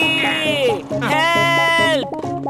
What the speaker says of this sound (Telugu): ఈ గాడిద నా వెనక ఎందుకు పడిందో తెలియటం లేదే